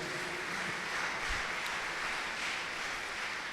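Broad, steady applause fills a church hall as a congregation thanks its volunteers who managed the arrangements, a continuous wash of clapping with no pauses, at moderate level throughout.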